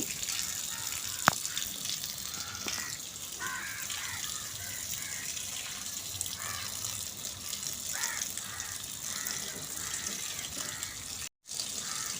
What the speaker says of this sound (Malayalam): എവിടേക്ക് വെള്ളം പാരണത്